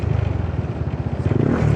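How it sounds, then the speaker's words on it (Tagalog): Motorcycle engine braking on a ride along a North Luzon coastal loop: a steady, rumbling low engine drone with rhythmic pulsing that swells slightly near the end, close and continuous with no talk. "Pag ganyan yung tunog ng makina, nag-engine brake yan."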